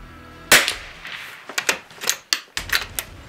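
A Christensen Arms Ranger carbon-fibre rifle fires once over a chronograph, a single sharp, fairly muted crack followed by several quick mechanical clicks and clacks of bolt handling close by, with no speech.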